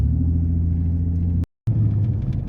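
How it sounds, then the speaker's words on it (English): Trophy truck engine on a road, a loud close rumble that holds steady, cuts out briefly, then returns with a slightly higher drone. "All right, let's go drive on that road."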